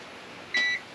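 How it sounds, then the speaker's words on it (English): A UPS battery backup gives a short, high electronic beep signalling lost power, a single tone of about a quarter second over a steady background hum. "this will beep at you to let you know that you lost power"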